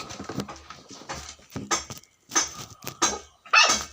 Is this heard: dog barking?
yes